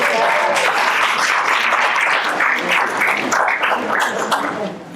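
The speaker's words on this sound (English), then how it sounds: "give a round of applause" An audience at a county TRIAD community forum applauds, with steady, fairly close clapping that lasts about five seconds before easing slightly at the end.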